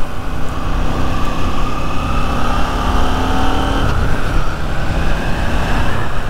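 A 2022 KTM 890 Duke GP motorcycle engine drones loud and steady under acceleration, with a brief dip in pitch as the quick-shifter clicks through a gear change before the pull resumes.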